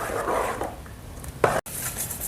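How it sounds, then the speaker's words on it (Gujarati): A spoon stirs khatta dhokla batter mixed with salt, turmeric and sour buttermilk in a bowl, giving soft scraping swishes and one sharper clink near the end, close by and without speech. "જો મિત્રો આપણે બરોબર હલાવી લઈશું આમાં, મસાલા બધા મિક્સ થઈ જાય એ રીતે।"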